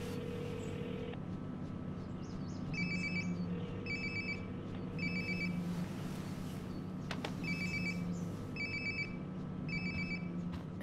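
A mobile phone rings inside the video game Life is Strange: Before the Storm, with repeated bursts of the ringtone sounding steadily over a low ambient game background.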